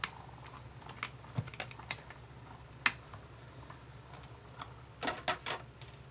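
A manual die-cutting machine feeds paper sandwiched under a number three plate through its rollers, producing a string of dry, close ticks and clicks at an uneven pace, with a few louder snaps.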